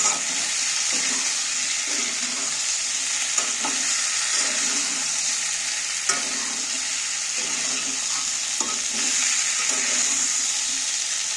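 A flour-based dinner dish is stirred in a frying pan, with a steady loud sizzle and soft, rhythmic scraping strokes of the spoon throughout.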